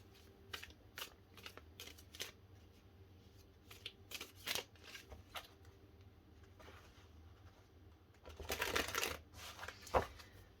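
Tarot cards being shuffled by hand in a quiet room, a series of soft papery riffles and flicks with a louder, denser burst of shuffling near the end.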